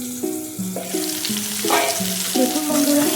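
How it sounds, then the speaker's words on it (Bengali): Vegetables for shukto frying and being stirred in a wok, a steady close sizzling hiss running under a stepped melodic tune of background music for the whole stretch. "সবজিটা কত সুন্দরভাবে ভাজা হয়ে যাচ্ছে।"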